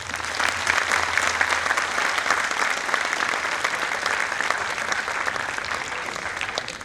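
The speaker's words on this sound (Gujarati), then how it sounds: "તમને જેટલી મજા આવી હોય ને એટલી તાળીઓ પાડો." An audience claps steadily through the whole stretch at an AGM musical night of a cooperative credit society, a loud, dense, sustained round of applause from a large crowd indoors, with no one talking over it.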